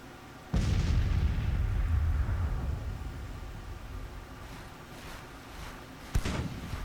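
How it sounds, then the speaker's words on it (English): Civil War artillery in a strategy game booms out in a sharp report followed by a long rumbling roll, then more distant cannon fire thuds a few seconds later, with no talk over it. "Artillery's starting to fire."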